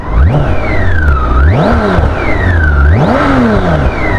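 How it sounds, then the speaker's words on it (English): A BMW K1600 GTL's inline six-cylinder engine revs hard three times in a row, each rising smoothly to a high wail and falling back, loud and close against a steady idle. "an inline 6-cylinder engine. Such a beautiful music to the ears."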